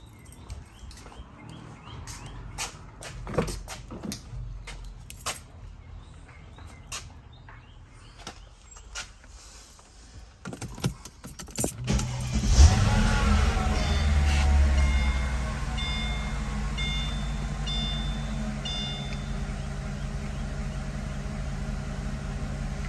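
A Mercedes SL500 engine is started after a power steering pump install: clicks and handling noises, then the starter catches and the engine settles into a loud, steady low idle.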